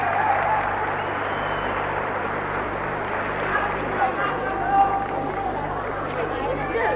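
An East German crowd at the 1981 World Gymnastics Championships applauds in a steady, sustained wash of clapping and hubbub, with a commentator talking over it.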